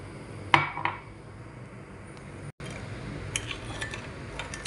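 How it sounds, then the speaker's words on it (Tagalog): Orange chicken sauce of orange juice, white vinegar and soy sauce mixed with a utensil, sharp clinks against the dish early on, then softer scraping and occasional taps. "Mix lang po natin."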